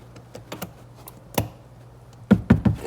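A plastic trim holder piece on a Mercedes W204 snaps back into its clip, heard as a few sharp close clicks and taps, with a final cluster of quick snaps.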